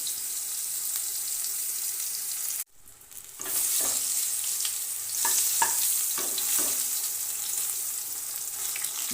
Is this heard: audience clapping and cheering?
no